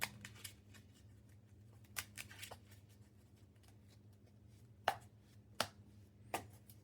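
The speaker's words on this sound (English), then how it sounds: "shuffle, shuffle, shuffle, shuffle." Yu-Gi-Oh cards shuffled by hand in short bursts, crisp flicks and taps spaced irregularly over a low background hum.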